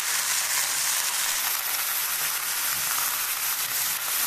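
Radish and potato pieces fry with turmeric and salt in a pan, giving a dense, even sizzle that stays close and steady with no pauses.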